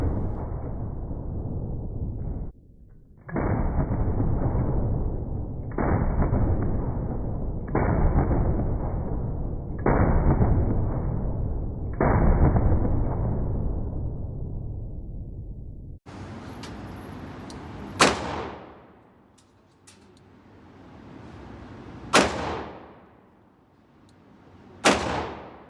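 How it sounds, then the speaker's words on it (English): Colt Trooper revolver fired in a string of rounds, heavy booming blasts in a steady run of about five, then a few sharper, spaced cracks with ringing decays. "you're going to see me fire a heck of a lot of subsequent rounds"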